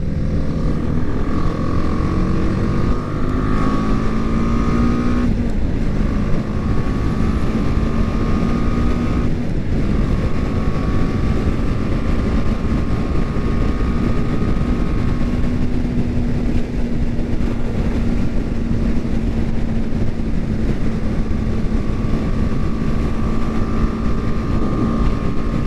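A 2019 BMW G310GS small-displacement motorcycle cruising on a highway, steady engine drone in a high gear under heavy, constant wind rush, with slight pitch shifts.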